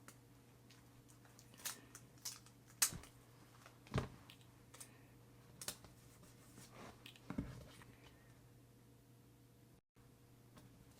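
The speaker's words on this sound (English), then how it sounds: "I'm just going to go ahead and write" Fountain pen nib writing notes on paper in Diamine Yule Log brown shimmer ink, a soft, quiet scratching in short bursts with pauses in between, close up in a hushed room.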